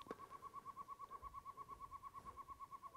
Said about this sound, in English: I don't know what that bird is.